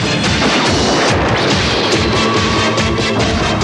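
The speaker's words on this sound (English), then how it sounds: "Cannon gun! Fire!" A loud, dense burst of crashing booms and blasts, continuous and chaotic, from Scorponok's cannon firing and impacts in the Transformers: The Headmasters cartoon.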